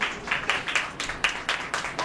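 An audience claps for a children's dance in sparse, unsynchronized hand claps, about four per second, fairly faint and with no voices.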